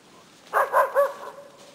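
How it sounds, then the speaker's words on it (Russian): A dog gives three quick barks in a row, close and clear, followed by a short trailing whine, with no talk during the barks. "Это, понимаешь, это собака,"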